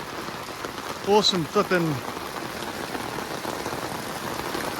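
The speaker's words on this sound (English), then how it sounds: "look at this rain" Steady rain drumming on a van awning during Queensland tropical weather, a continuous dense patter throughout, with someone speaking briefly over it.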